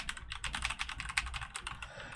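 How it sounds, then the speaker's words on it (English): Rapid, steady keystrokes on a computer keyboard, close and fairly quiet, continuing for a couple of seconds with no voices. "check out what happens when I start to type in here"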